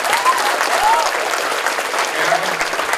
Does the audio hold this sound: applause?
yes